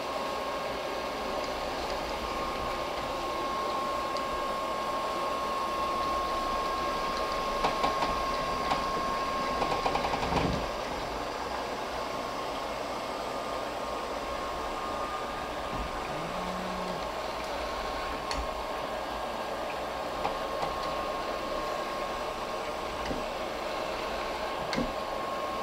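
A BAALAND robot vacuum runs on a tabletop with a steady, even motor whir and fan hiss. The sound is close and continuous, with a few faint clicks and bumps.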